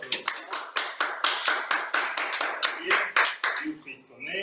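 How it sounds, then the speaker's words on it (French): Rhythmic applause from an audience at a Toastmasters speech meeting, many hands clapping steadily for several seconds before tapering off. "Vous applaudissez."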